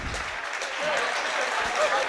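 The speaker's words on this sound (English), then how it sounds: "He's getting a standing ovation from the Southport supporters." Southport supporters at a National League North match against Oxford City give a substituted winger a standing ovation, a steady burst of crowd applause heard from a distance beneath a radio commentator's voice.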